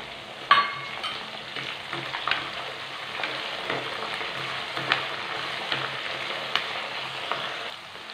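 Green chillies and curry leaves fry in oil in a clay pot, a steady close crackling sizzle with occasional sharper pops and stirring scrapes running throughout, no voices.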